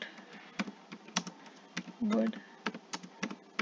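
Keystrokes on a computer keyboard while writing Java code: irregular sharp clicks and taps at close range, some in quick pairs, with a brief voiced sound partway through.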